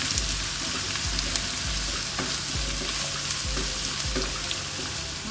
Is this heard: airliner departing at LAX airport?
no